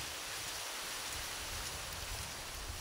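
Steady rain falls, a dense, even patter and hiss with no voices.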